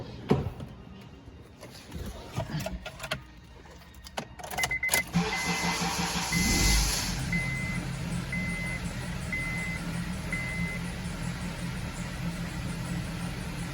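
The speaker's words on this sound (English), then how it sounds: "See the idle surging. I mean, it's just going wah, wah, wah." 2003 Honda CR-V with a surging idle: after some rustling, the engine starts and settles into a running idle, accompanied by a repeating warning chime beeping at regular intervals.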